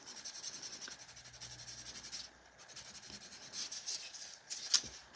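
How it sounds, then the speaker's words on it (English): A foam file working over a builder gel nail, giving a soft, quiet, rhythmic scratchy rubbing of quick repeated strokes that briefly pauses midway, with no voices. "using the softer side is prepping for when I use the foamy to slowly work out all of those etched lines"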